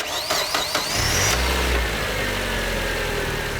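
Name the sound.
car engine started with the alternator belt off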